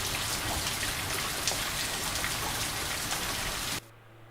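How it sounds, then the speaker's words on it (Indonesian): Moderate rain falls as a dense, steady hiss of drops on surfaces, loud and continuous, then cuts off abruptly to a quiet hum. "Hujan yang sedang ya tadi ya."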